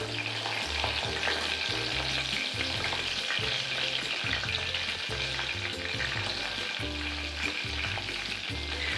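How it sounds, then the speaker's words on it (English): Prawns fry in a hot pan with a dense, steady crackling sizzle, overlaid by a regular low thumping rhythm, likely a spatula or burner knocking, running throughout without speech. "Make sure that it's heated up nicely, and in goes the prawns."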